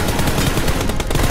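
A fast burst of automatic rifle spray fire in a video game close-range fight rattles continuously for about a second, loud and close.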